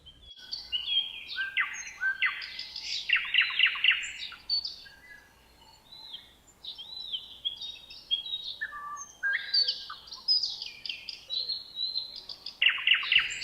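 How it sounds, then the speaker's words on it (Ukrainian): Several birds chirp and trill in bursts, high and bright, overlapping at times with brief quieter gaps; no talking. "я почула спів пташок, шелест листя."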